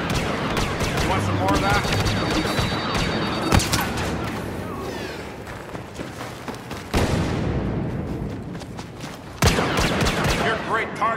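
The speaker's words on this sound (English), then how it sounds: "Some blaster fire" Rapid, loud bursts of blaster fire in Star Wars Battlefront Hero Hunt gameplay on PS4, dense and continuous with heavy impacts, while a voice speaks over the shooting.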